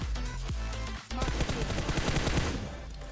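Rapid gunfire in a battle royale shooter game, played back sped up, with a fast, dense stream of shots in quick bursts, loud and close, broken by a brief pause partway through.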